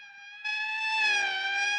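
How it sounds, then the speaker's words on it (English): Siren from an emergency vehicle in a 1959 film, a loud, steady electronic wail that swells and bends slightly in pitch, heard alone with no talking. "That's the 5th siren in the last hour."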